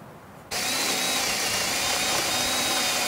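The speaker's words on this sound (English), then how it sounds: "we're just going to screw everything together" A power drill driving screws to assemble a wooden shooting target frame, starting after a brief quiet moment and then whirring loud and steady at close range without a break.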